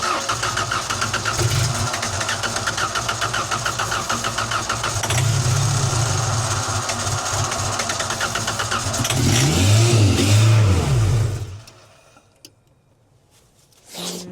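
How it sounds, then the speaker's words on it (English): The propane engine of a 1990s Genie man lift, being revived, starts and revs hard and loud close by, swells in pitch, then cuts out abruptly into near silence before a brief restart at the end. "I'll rev it up again as well."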